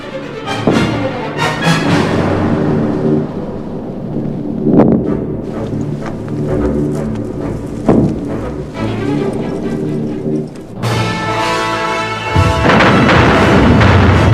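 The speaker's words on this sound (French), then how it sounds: "Vatoutine déclenche avec 600 canons et mortiers une contre-préparation d'artillerie qui va durer plusieurs heures" Heavy booms from an artillery barrage of cannons and mortars at the Battle of Kursk in 1943 come in irregular rolling blasts over a dense battlefield din. The last stretch is loud and harsher.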